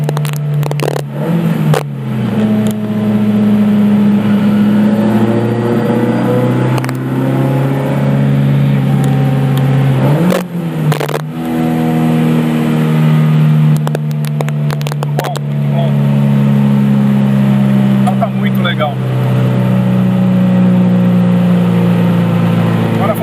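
A BMW 320i E21 engine being tuned on a MoTeC M4 system revs up and settles repeatedly with throttle blips and a steady idle. Someone talks over the engine throughout.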